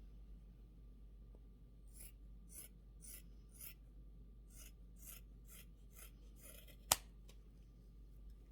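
Scissors snip through fabric for a pet Christmas stocking in a quiet room: about a dozen crisp, evenly spaced cuts in short bursts, close and soft, with one sharp click near the end.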